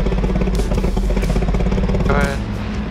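A small airplane's engine runs on the ground before departure, a loud, steady, throbbing drone with a rough clattering edge that continues throughout, while a voice is faintly heard over it.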